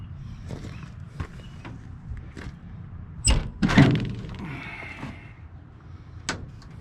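The heavy steel cab door of a 1962 Ford C750 cabover truck swings and shuts with a solid thunk and a clank, followed by a few lighter knocks over low, steady background rumble.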